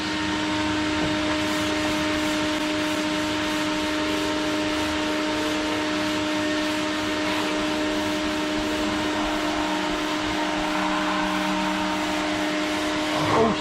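Hand block sanding of the paintwork on a Ford Escort RS 2000 with no dust extraction attached, a steady, close, continuous abrasive rasp that holds evenly throughout, with no talk.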